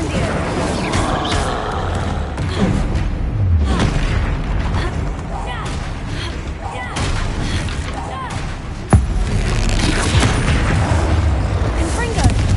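Fiery spell blasts from the Hogwarts video game crackle and boom repeatedly, loud and close, with a sharp burst near the end, amid dense game noise and a voice calling out.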